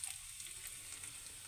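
Flattened rice (poha) roasts in leftover ghee in a pan after cashews and raisins were fried in it. A soft, even sizzle and crackle holds steadily throughout, fairly quiet and with no talking.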